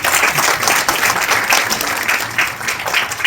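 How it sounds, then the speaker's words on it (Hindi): An audience at a book launch breaks into sustained applause, dense and fairly loud, a continuous wash of many hands clapping for several seconds without a break. "ईश्वर अंकल के लिए जोरदार ताली बजाइए।"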